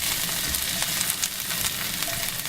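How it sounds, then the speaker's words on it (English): Garlic scapes sauteing in hot oil in a pan over medium heat, giving a loud, continuous close sizzle with small stirring scrapes throughout and no talking. "Once the oil is nice and hot and you've added your garlic scapes to the pan, you're going to saute them on medium heat"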